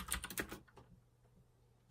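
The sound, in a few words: typing a command on a computer keyboard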